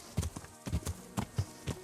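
Horse hooves clip-clop steadily at a walking pace in the medieval role-playing game Kingdom Come: Deliverance, with sharp, close, evenly spaced hoofbeats sounding alone.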